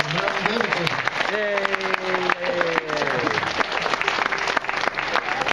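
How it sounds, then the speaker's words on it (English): Dense, steady audience applause fills a church talent show at Calvary Chapel, with a few voices or cheers rising briefly over the sustained clapping throughout. "Yes, one more round of applause if you will."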